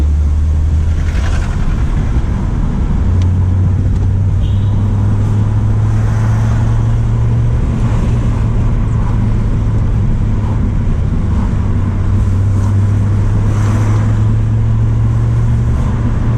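A steady, loud engine drone from inside a moving car, with a low, muffled hum that shifts pitch slightly and constant road and wind rumble.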